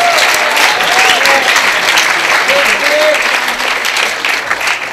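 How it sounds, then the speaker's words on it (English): Audience applause for the judges at an evening stage event, a dense, steady clapping crowd lasting several seconds with faint voices mixed in. "Please, one more round of applause for our judges back there."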